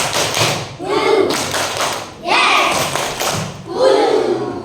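A class of young pupils claps in rhythmic bursts for a clap chant, several loud rounds of group clapping with short pauses between, with children's voices mixed in.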